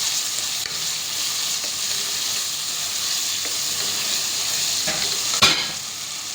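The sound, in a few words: spice masala with green chilies being stir-fried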